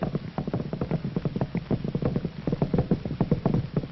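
Racehorses' hooves clip-clop in a steady, fast rhythm, many close beats running together on a firm surface, loud and continuous with no voices, in an old 1937 recording.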